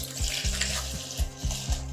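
Water poured into a jug after a liquid product, heard close as a splashing rush with regular low glugging pulses repeating about every quarter second.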